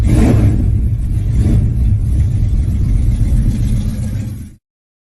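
The engine of the Chevelle muscle car 'Black Beauty' roars loudly up close with a deep, rumbling rev, holding steady and heavy for about four and a half seconds before cutting off abruptly.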